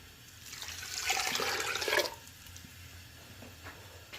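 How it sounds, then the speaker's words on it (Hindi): About three glasses of water poured into a pressure cooker pot holding meat and lentils for shami kabab, heard as a close, steady splashing rush for about two seconds that then stops, with no talk. "और इसमें अब हम पानी ऐड करने लगे हैं, तकरीबन 3 गिलास।"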